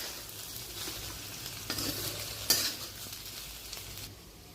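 Stuffed okra (bhendi) frying in oil in a pan, a steady soft sizzle with occasional scrapes and clinks of a spoon stirring, fairly quiet and close.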